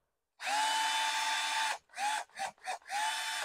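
A Milwaukee cordless drill with a 10 mm metal chuck whirs at steady high speed for over a second, then gives several short trigger bursts before one more sustained run, close and loud with no talk.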